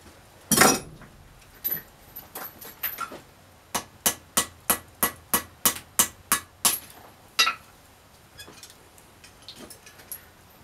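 A hammer strikes a metal rod in sharp, ringing blows while bending it for a campfire tripod, mostly a steady run of about a dozen evenly spaced hits, close and clear, with a few scattered taps around them.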